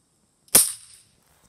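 A single sharp pellet gun shot fired at a pumpkin outdoors, a crisp snapping crack with a short fading tail, standing alone in otherwise quiet surroundings.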